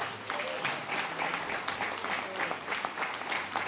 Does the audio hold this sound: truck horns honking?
no